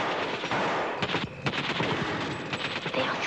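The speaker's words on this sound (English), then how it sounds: "They are shooting out the lights." Rapid bursts of gunfire in a 1952 jungle plantation war drama as the lights are shot out, loud and dense, with overlapping rifle and machine-gun shots ringing continuously and no talking.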